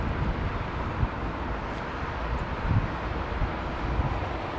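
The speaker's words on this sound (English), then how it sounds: "Oh, listen to the hum of the Trents." Rolls-Royce Trent engines on an airliner give off a steady low hum with a soft rumble and a few faint bumps, moderately loud and continuous, with no talking.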